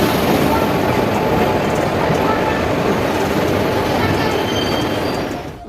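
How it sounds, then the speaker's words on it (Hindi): The Haridwar–Rishikesh passenger train pulling into a platform at Haridwar station, a loud sustained rumble of rolling wheels with metallic squeal and rattle, fading slightly at the end. "फाइनली अपनी ट्रेन 5 नंबर प्लेटफॉर्म पे वही आई है जो सुबह गई थी अपनी हरिद्वार से अपनी ऋषिकेश पैसेंजर"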